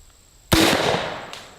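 A golf ball cannon fired from an X Products Can Cannon launcher gives a single sharp, loud blast that decays over about a second, with a faint later pop.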